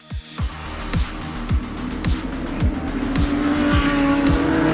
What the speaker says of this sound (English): Race is restarted, everyone's flying around the track